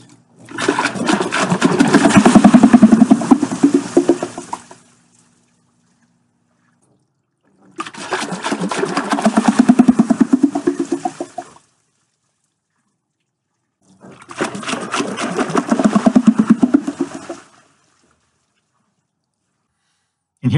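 A full-scale water wheel turns under flowing water in a flume test rig. Three separate runs of rushing, splashing water with a rhythmic churn are loud and close, each lasting a few seconds, with silence between them.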